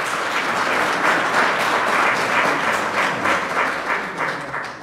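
Sustained audience applause at a Korean political forum on civil servants' and teachers' political rights, a dense, steady wash of many hands clapping, fairly close and loud, fading slightly toward the end with no talking over it.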